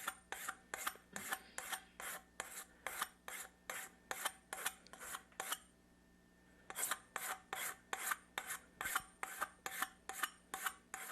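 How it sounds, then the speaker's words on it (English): A hand file rasps steadily back and forth across a chrome-plated brass pipe in an even rhythm of about two strokes a second, close and fairly quiet. The filing pauses briefly once and then resumes. "we're just doing this with just a regular file. We're just going to keep filing it down until we get it down to the brass part"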